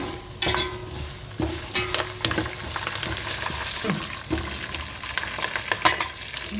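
Curry leaves hit browned hot oil in a pan for tomato chutney, giving a steady close sizzle with sharp crackles and intermittent clatter from stirring, no voices.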